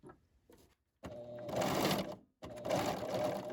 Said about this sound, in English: I'm going to have to stretch as I sew so that they'll equal each other